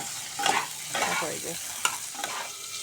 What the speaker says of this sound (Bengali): আমি এটাকে ভালো করে লাল লাল করে ভেজে নিব